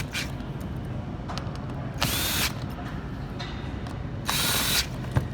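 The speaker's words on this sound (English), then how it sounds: "Then I go ahead and tighten them up." Bolts are tightened during bicycle frame assembly, a power tool whirring in two short bursts over a steady, rattling mechanical background; close and fairly loud, no speech.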